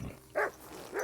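A dog in the video game Kingdom Come Deliverance 2 gives two short, close barks about half a second apart, with no talk over them.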